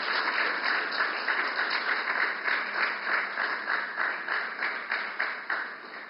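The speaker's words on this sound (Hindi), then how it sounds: "तालियां की गूंज आती रहे।" Sustained audience applause at an official inauguration ceremony for the Indian Newspapers Society Towers in Mumbai, a steady dense wash of many hands clapping throughout, with no speech over it.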